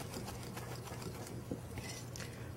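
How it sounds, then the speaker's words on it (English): Danish dough whisk stirring whole grain brownie batter in a bowl, a steady low scraping and churning that continues close up and at a quiet level, with no talking. "the Danish dough whisk is doing a marvelous job"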